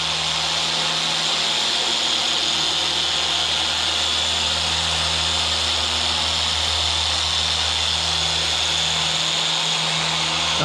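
A car polishing machine runs with a fresh pad at higher speed, giving a loud, steady, continuous whirring drone with a constant motor hum throughout and no speech.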